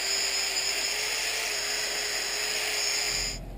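A tool polishing rust off a hydraulic chainsaw chain gives a continuous high-pitched whine at a steady level, then cuts off abruptly just before the end.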